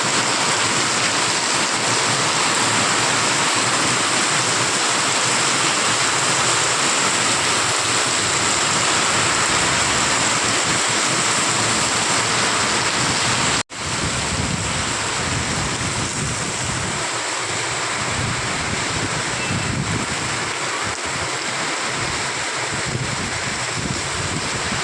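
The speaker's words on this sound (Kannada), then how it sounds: "ನೋಡ್ತಾ ಇರ್ಬೋದು ನೀವು ಎಷ್ಟು ಜೋರಾಗಿ ಮಳೆ ಬೀಳ್ತಿದೆ ಅಂತ." Heavy rain pours down outdoors in a loud, steady, even roar with no voices, broken only by one brief dropout about halfway through.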